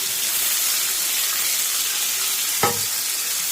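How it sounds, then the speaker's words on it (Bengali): Onions lightly frying in a pan for a mashed bhorta dish, a steady close sizzle and hiss running throughout, with one brief knock of a spoon stirring near the end. "জাস্ট হালকা ভাজবো। পেঁয়াজগুলো একটু নেড়ে নেবো,"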